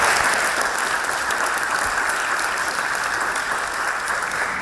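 Audience at the Oxford Union bursts into sustained applause, a dense, even wash of clapping from a large hall that holds steady for several seconds.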